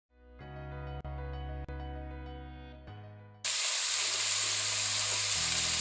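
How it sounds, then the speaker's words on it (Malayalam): Chopped onions hit hot oil with popped mustard seeds in a pan for a Kerala egg pepper masala, first a few seconds of steady tonal hum, then a loud, dense, continuous sizzle that keeps going to the end. "ഇതിലേക്ക് നമ്മൾ അരിഞ്ഞു വെച്ച സവാള ഇട്ട് വഴറ്റുക"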